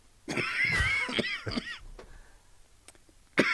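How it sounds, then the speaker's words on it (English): A person coughs a few times in a close, loud burst, followed by a quieter stretch and one more sharp cough at the end, with no words spoken. "because I moved, that's why I coughed"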